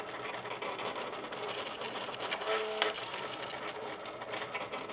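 A HAPPY embroidery machine cutting applique shapes on a black shirt gives a steady, dense mechanical whirr and rattle that runs continuously and evenly throughout, without talk.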